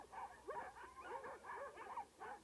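Sled dogs at a sled dog race in Sandwich, New Hampshire whimper and yip in a rapid series of high, wavering whines, repeating steadily at moderate distance without any talking.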